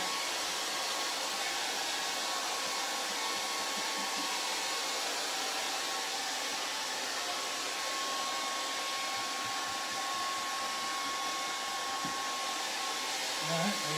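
Hair dryer blowing air to dry a charcoal and acrylic painting, a constant broadband roar held close and steady throughout with no break.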